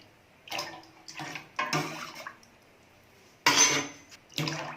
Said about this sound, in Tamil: பருப்பு ரசத்துக்கு தேவையான அளவுக்கு தண்ணி ஊற்றிக்கலாம்.